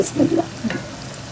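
Chicken pieces drop into a pan of frying spices for chicken korma, a brief burst of sizzling with stirring scrapes, loud and close, fading to a softer hiss.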